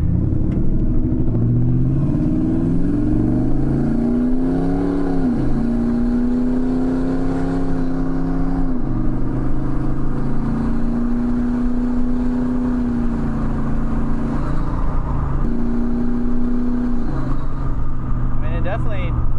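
A turbocharged car engine drones and revs steadily, its pitch rising and falling through several gear changes, loud and close throughout.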